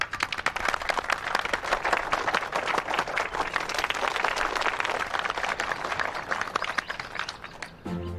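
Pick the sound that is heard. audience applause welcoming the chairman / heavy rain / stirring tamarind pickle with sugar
audience applause welcoming the chairman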